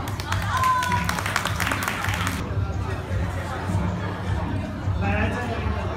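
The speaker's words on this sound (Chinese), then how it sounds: "给你掌声欢迎。" An indoor audience at a university teaching demonstration claps briskly for a volunteer for about two seconds, mixed with crowd chatter, then the clapping stops and murmuring voices and room noise continue.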